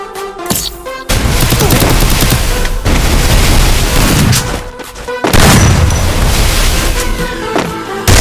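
Loud, sustained automatic gunfire rings out in the mobile shooter game Free Fire, long dense bursts of rapid shots with brief gaps between volleys, close and overpowering.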